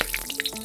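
Whole spices such as bay leaves, dried chillies and cardamom spatter in hot oil for tempering, a brief close sizzle with quick pops and crackles and no talk.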